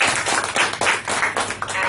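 Audience applause at a Toastmasters meeting, a short burst of steady clapping from a small group filling the room at close range, with no voices over it.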